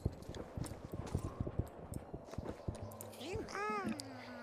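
Magic horses trotting through a village in a video game, a steady run of light clip-clop hoofbeats with a soft whinny near the end, heard under game music and effects.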